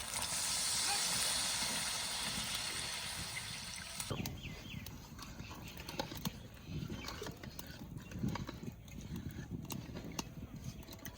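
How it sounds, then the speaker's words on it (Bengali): Water poured onto fried spice paste for a katla fish kalia, a loud rushing hiss at first that fades after a few seconds into softer bubbling and crackling, close by. "মশলা কষানো হয়ে গেছে, এবার জল দিয়ে দেবো।"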